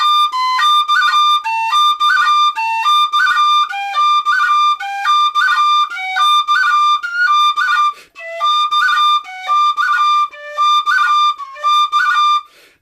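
A tin whistle plays a repeated phrase decorated with easy cran ornaments fingered with index and middle, bright and close, in clean rhythmic bursts of quick grace notes.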